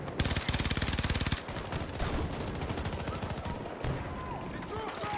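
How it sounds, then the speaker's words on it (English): Rapid automatic gunfire from a Battlefield match, a dense close burst of machine-gun shots followed by scattered distant rounds and battlefield rumble. "I can't see who's shooting us."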